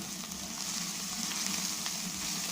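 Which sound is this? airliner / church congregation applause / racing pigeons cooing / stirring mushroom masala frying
stirring mushroom masala frying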